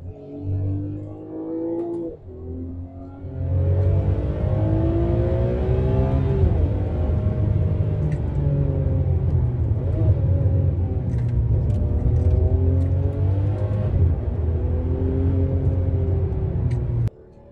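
A car on a test drive accelerates and shifts through gears, its engine note rising and falling in repeated revving sweeps under a steady low road rumble, loud and close from inside.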